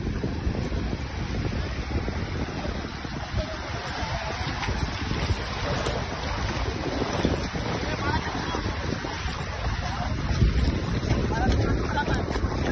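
A boat moves across open water, with a steady rush of water and engine noise and strong wind buffeting the microphone, continuous and loud for the whole stretch.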